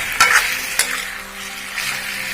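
Potatoes, banana flower and chicken stirred in a pan with a splash of water for an Assamese curry, producing a close, steady sizzle broken by a couple of sharp scraping strokes early on, with no talking.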